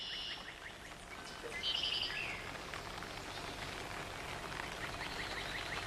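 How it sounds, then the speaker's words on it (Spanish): Soft, steady rainfall in the cloister of a Romanesque Benedictine monastery in Catalonia, a faint continuous hiss with a few distant bird chirps over it. "acrecentado por el sonido de la lluvia"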